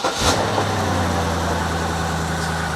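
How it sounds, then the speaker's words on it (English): A BMW 6 Series engine idles steadily and up close, a low, even hum with a smooth, unchanging rhythm and no talk over it. "I'm going to get the engine fired up, get some heat into that engine"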